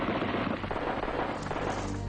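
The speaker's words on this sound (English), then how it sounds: "Siew Ma opens fire, wounding several police officers and puncturing the tires of the Rolls" Gunfire in a wartime ambush on a Rolls-Royce during the Malayan Emergency, heard as a dense, continuous crackling roar of shots and blasts filling the whole span, loud and close, with no talk.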